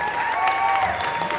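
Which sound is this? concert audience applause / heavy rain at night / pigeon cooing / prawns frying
concert audience applause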